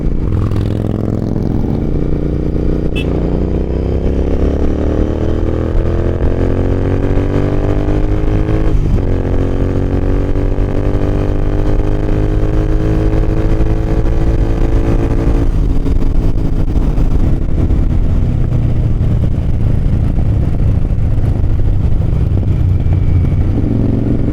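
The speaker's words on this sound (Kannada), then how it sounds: "ಥ್ರಾಟಲ್ ಕೊಟ್ಟು ಒಂದು ಸ್ವಲ್ಪ ಹೊತ್ತು ಬಿಟ್ಟರೆ ಹೆಂಗೆ ಬರುತ್ತೆ ಅಂದರೆ ಒಳ್ಳೆ ಪಾಪ್ಕಾರ್ನ್ ಪಾಪ್ ಆದಂಗೆ" A Royal Enfield Interceptor motorcycle with an aftermarket exhaust rumbles loudly and continuously on the road, the engine pitch rising and falling as the throttle is worked, with occasional sharp crackles and pops as it comes off the gas.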